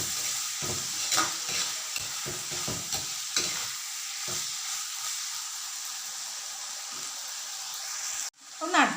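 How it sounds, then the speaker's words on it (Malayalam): Shallots and onions sautéing with salt in a pan sizzle softly and steadily, with repeated scrapes and stirs in the first half, then a louder clatter right at the end. "ചെറിയുള്ളിയും വലിയുള്ളി നല്ലോണം ഒന്ന് വാടി വരട്ടെ."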